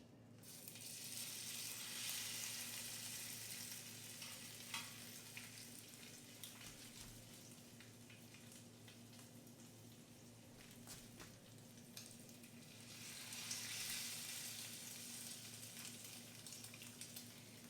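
Gluten-free, dairy-free all-crab cakes frying in a pan give a steady, loud sizzle that holds evenly throughout, with a few brief crackles and no talking.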